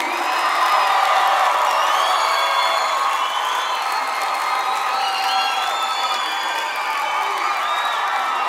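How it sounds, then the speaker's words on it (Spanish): A live concert crowd applauds and cheers for Fermín, with sustained clapping, whoops and shouting voices blending into a loud, continuous roar that holds steady throughout. "Un aplauso más fuerte a Fermín."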